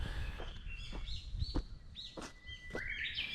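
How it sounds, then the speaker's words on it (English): Several birds chirp and tweet in short, bright calls scattered across a few seconds, fairly close, over faint background noise. "maybe you heard already the birds in the background"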